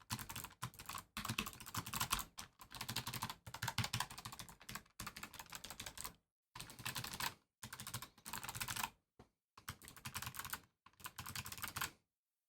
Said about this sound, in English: I'm going to go ahead and let you have a listen to these keys.